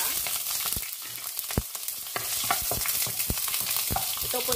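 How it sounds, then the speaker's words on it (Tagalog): Red onion sautéing in a pan for sweet and sour fish, a continuous close sizzle broken by sharp spatula scrapes and taps as it is stirred, no talking. "yung red onion, igisa."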